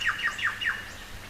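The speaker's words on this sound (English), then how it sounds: "Birds love it here." Four sharp, descending bird calls in quick succession in forest by the Blackwood River near Nannup, then the calling fades into quiet background.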